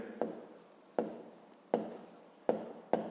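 A pen writes on paper during a fifth-grade math exercise, making five crisp, separate strokes spaced about evenly. It is close, quiet and heard alone.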